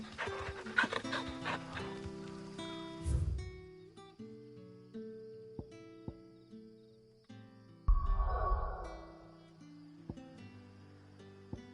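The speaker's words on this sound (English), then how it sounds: "I heard Otto barking at his mother." A dog in the video game Final Fantasy 16 pants and gives short barks over sustained musical score, with a couple of louder bursts standing out from the soundtrack.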